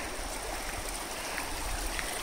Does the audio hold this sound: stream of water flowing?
yes